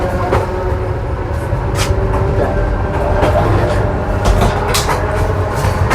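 Old Soviet-style elektrichka commuter train travelling through Bulgaria, with a loud, steady interior rumble and low drone, rattling carriage noise and occasional clicks and clacks from the track.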